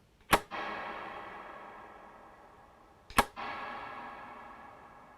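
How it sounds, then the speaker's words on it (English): Guitar run through a BigSky plate reverb preset: two struck chords, about three seconds apart, each with a sharp attack and a long, smooth, spacious tail that slowly fades, heard alone and up close. "the next setting he has is the plate reverb"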